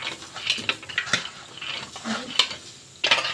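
Chickpeas roasting in hot salt in a pan, with dry rattling scrapes and metallic clinks as they are stirred, in irregular bursts close by.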